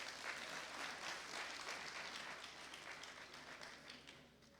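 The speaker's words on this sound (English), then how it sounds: "can we give them a round of applause?" Faint, steady applause from an audience at a scientific public-health conference hall, a continuous patter of many hands clapping that gradually thins toward the end.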